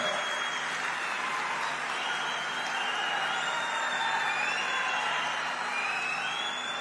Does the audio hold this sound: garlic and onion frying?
no